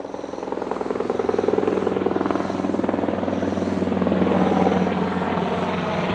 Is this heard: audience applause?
no